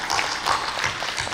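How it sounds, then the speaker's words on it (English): A congress audience in Baku claps for the event organizers at an opening ceremony, a brief, steady wash of many hands applauding at moderate volume, with no voices standing out. "I would like to ask you to join me in applauding these organizers for the Congress."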